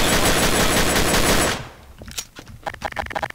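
Dense, sustained automatic gunfire in the Garry's Mod role-play game, loud and continuous for about a second and a half, then breaking off into scattered sharper shots and clatter.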